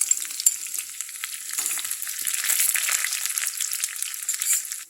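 Chopped shallots sizzle in hot oil with popped mustard seeds for a prawn and mango curry, giving a loud, continuous frying hiss with the light scrape of stirring and no voices.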